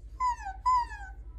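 A puppy whimpers twice, each a short, high, falling whine, the second slightly stronger, over a faint low hum.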